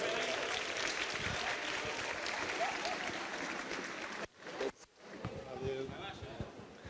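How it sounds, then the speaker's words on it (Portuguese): Audience applause at a public consultation meeting, a dense continuous wash of clapping from the room that cuts off abruptly partway through, followed by quieter room noise and the start of speech. "Vamos recebê-lo com uma salva de palmas"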